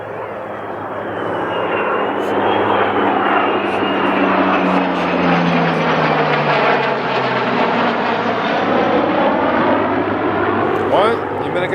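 Old F-16 fighter jets fly at Leeuwarden air base, their loud, sustained engine roar filling the air and slowly shifting in pitch as they pass, with voices talking faintly beneath.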